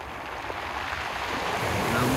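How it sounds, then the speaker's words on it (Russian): Gentle waves of the Black Sea roll onto the shore at Sochi on a calm January day, a soft continuous wash that swells slightly, with some wind noise in the microphone. "На море легкое волнение."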